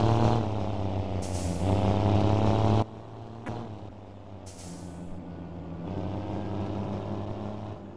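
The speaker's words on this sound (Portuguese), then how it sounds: "Vamos curtir um pouquinho o ronco desse caminhão." A heavy truck in the Heavy Truck Simulator game rumbles with a deep, steady engine drone, broken by loud hissing air-brake releases and a brief drop in engine note before the rumble builds again.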